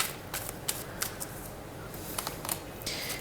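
Tarot cards are shuffled and drawn by hand, a string of quick papery riffles and flicks close by in a quiet room, arriving in small bursts with brief pauses.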